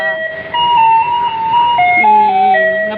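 A garbage truck in Taiwan plays its electronic jingle outside a building, a bright, steady stepping melody ringing out loud and continuous over low street rumble, with no talk.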